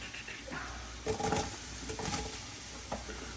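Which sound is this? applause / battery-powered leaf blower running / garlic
garlic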